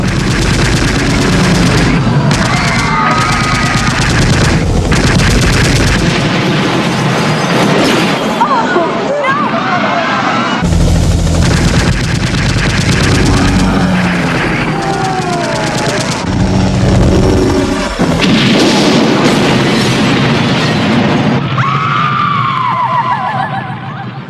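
Loud, sustained gunfire rattles from an aircraft in a radio drama, machine-gun bursts and booms layered with engine roar and shouting voices throughout.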